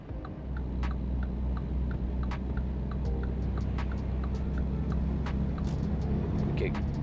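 Virtual truck engine from American Truck Simulator, a steady low drone held for the whole stretch at even loudness, with scattered faint ticks and clicks over the rumble and no talk.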